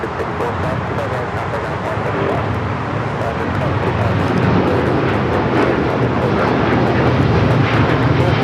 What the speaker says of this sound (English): That is LL Flight 6 taking off to Tel Aviv